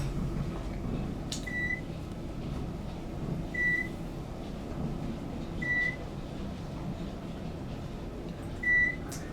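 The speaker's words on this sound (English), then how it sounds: "the microwave beep is at the same pitch as what you'd see on the Series 3 elevators" Four short, high electronic beeps at even intervals from an Otis Vanity traction elevator at a hotel in Portland, Oregon, faint over a steady background hum of machinery.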